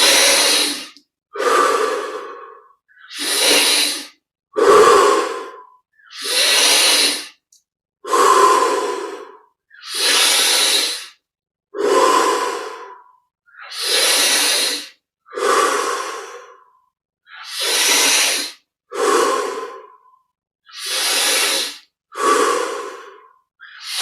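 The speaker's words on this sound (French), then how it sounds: "Mais prenons ces 20 respires" Slow, deep rhythmic breathing during a meditation exercise, about fourteen long loud breaths in and out, close and unaccompanied, each separated by a short pause.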